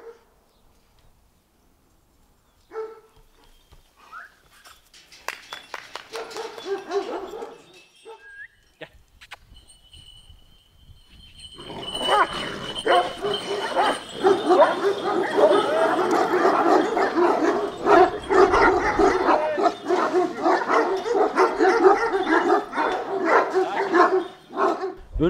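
Kangal dogs barking outdoors, first a few scattered distant barks, then a dense, loud chorus of several dogs barking over one another without pause, with faint human voices now and then.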